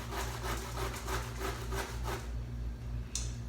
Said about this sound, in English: Almost done grating this one.